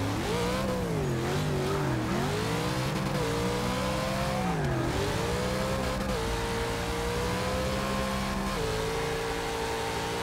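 A Plymouth Cuda engine in Forza Motorsport 6 revs loudly and continuously while shifting through the gears, pitch climbing and dropping with each change, with tires squealing as the car drifts.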